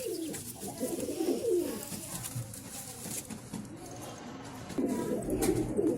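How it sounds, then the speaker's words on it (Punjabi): Several pigeons coo in low, rolling bursts, swelling near the start and again toward the end, with faint background chatter and rustle. "ਪਹਿਲਾਂ ਵੀ ਕਬੂਤਰੀਆਂ ਦਿਖਾਈਆਂ ਹੁਣ ਕੂਤਰ ਦਿਖਾਉਣੇ ਤੁਹਾਨੂੰ"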